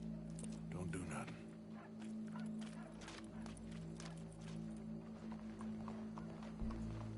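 Rhythmic clip-clop of horse hooves in Red Dead Redemption 2 plods along under a low, steady hum and background din, close by and moderately loud.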